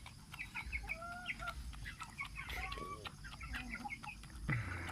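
Pet chickens clucking in a morning farmyard, a Talisay hen and White Kelso rooster among them, with repeated short clucks and calls from several birds close by over steady low background noise.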